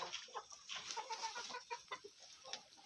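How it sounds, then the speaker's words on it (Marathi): Free-range farm chickens clucking softly and continuously while pecking at grass, a busy cluster of overlapping hen calls close by with no talk. "तुम्ही बघू शकता आता कोंबड्या किती आवडीने घास खातात."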